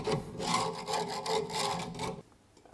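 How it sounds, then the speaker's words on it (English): A flat screwdriver scrapes old adhesive from the rope seal channel of a stove door, making close, continuous rasping strokes in a steady back-and-forth rhythm before stopping abruptly. "Scrape off existing adhesive."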